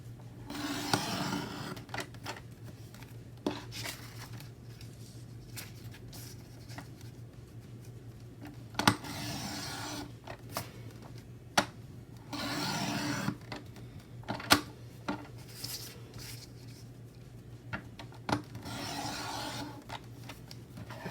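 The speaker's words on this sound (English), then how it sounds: "I'm going to trim them down to fit" Paper coloring pages are trimmed to planner size with a paper trimmer, giving scattered close rasping slides and clicks over a steady low hum with pauses between cuts.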